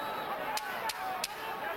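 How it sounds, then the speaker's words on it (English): Three sharp wooden clacks of sticks struck together at a boxing match between Barrera and Morales, evenly spaced about a third of a second apart, cutting through steady arena crowd noise. "You're going to see something once they clap those sticks together."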